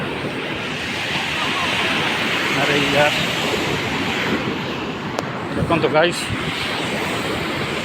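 Ocean surf rolls continuously onto Gopalpur beach, a broad steady wash of breaking waves with wind noise, while people chat casually over it.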